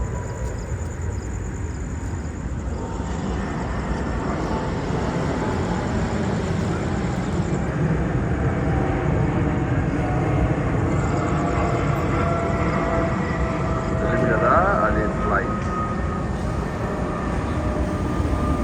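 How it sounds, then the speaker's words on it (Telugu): An airplane climbs away from a nearby airport, heard from a highway walk as a steady, loud broad roar of jet noise that carries evenly throughout, with faint traffic-like rumble beneath and no talking. "అక్కడ నుంచి చూడండి ఎలా లేచింది ఇప్పుడు టేక్ ఆఫ్"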